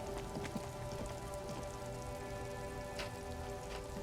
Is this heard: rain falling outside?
yes